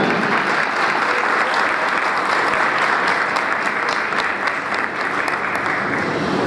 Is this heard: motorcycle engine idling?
no